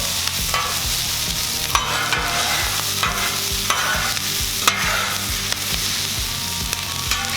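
Potatoes and ham for a breakfast hash frying on a Blackstone griddle, a loud continuous sizzle with repeated rhythmic scraping and clacking of a spatula as the food is mixed, up close and without talk.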